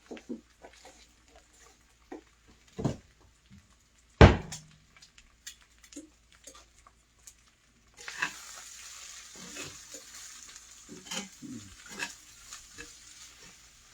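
Spinach and sausage stirred in a pan for a quiche: soft scraping and clacks with a sharp knock near the start, then a steady low sizzle and frying hiss through the second half, with no talking.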